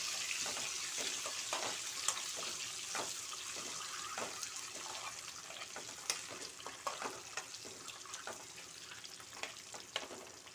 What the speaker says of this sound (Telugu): ఎగ్ వేయించుకుంటే బాగుంటుంది, తింటుంటే మెత్తగా లేకోకుండా కొంచెం డ్రైగా ఉంటుంది